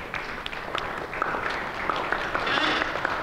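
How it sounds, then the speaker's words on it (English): A lecture-hall audience applauds steadily for two students in a computer systems design class, a dense wash of clapping that builds slightly toward the end, with some voices mixed in. "take a round of applause."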